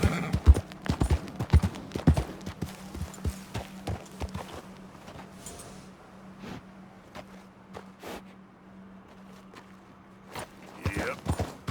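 A horse trots in the video game Red Dead Redemption 2, with sharp clip-clop hoofbeats that quicken, thin out midway, then pick up again, and a voice speaks briefly.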